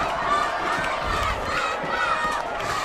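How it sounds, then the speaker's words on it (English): A crowd roars in the closing seconds of a boys varsity lacrosse game, Scarsdale at Mamaroneck, with sustained loud cheering and shouting that fills the space and stays constant, with no clear speech over it. "The crowd is going nuts. So loud."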